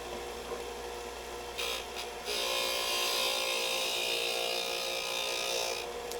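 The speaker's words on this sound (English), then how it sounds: "Now we go over to our disc sander, and we're just going to clean that up a little bit." Disc sander smoothing a homemade wooden speargun, a steady close electric whir that deepens into a louder, sustained sanding hiss partway through.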